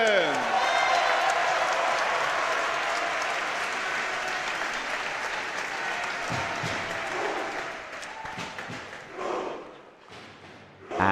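Sustained applause from a large audience at a European Rubik's Cube championship, greeting a Norwegian finalist as he is introduced; dense, even clapping that fades toward the end.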